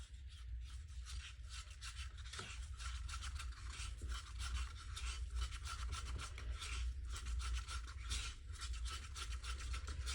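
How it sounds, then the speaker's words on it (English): Stick stirring epoxy resin with a few colour drops in a cup, continuous quick scraping and rubbing close up, soft and even throughout with a low background hum. "I'm going to give this a mix."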